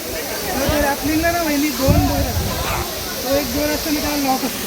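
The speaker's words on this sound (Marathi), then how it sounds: "झरा बघा कसं वरतून पडतोय" The Pandavkada waterfall pours down in a steady, loud, broad hiss of falling water, while people talk excitedly over it throughout.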